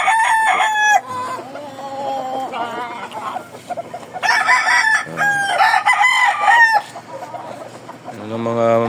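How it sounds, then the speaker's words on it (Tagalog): Several roosters at a farm crow loudly and close by, long strained calls overlapping one after another, with clucking from other fowl in the pauses between. "Yan ang mga manok natin dito sa Espalto Farm."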